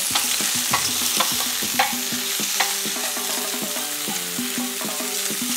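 Sausages sizzle and fry in their own rendered fat in a pan, with steady spitting crackle and a few clinks and scrapes as they are stirred and turned, close and continuous with no talking.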